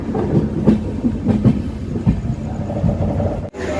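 A passenger train on the Vasco da Gama to Velankanni route via Dudhsagar rolls along near Arsikere Junction, with a continuous rumbling roar and rhythmic clickety-clack of wheels over rail joints, loud and close, with no voices.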